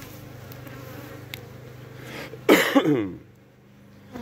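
Honeybees buzz with a steady, moderate hum as they return to the hive carrying pollen; someone coughs loudly midway, then the droning carries on alone.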